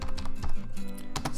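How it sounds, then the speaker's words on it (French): Rapid keystrokes on a computer keyboard as a command is typed, a steady run of close, crisp clicks with brief pauses, no voices. "Donc ici on va taper la commande suivante"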